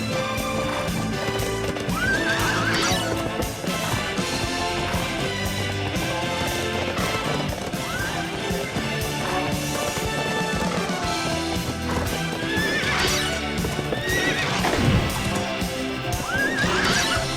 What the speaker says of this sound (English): Here we go with horse riding.